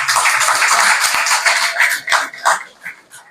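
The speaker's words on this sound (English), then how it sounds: "Can I get a round of applause for that outstanding performance?" A crowd at an office grand opening ceremony claps after a musical performance, loud and fairly close at first, then the clapping thins into scattered bursts and dies away.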